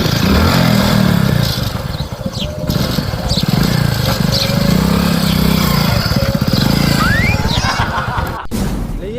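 A motorcycle engine runs loud and close, a steady low rumble that holds for the whole stretch with a few brief clunks and rattles, and no one speaks.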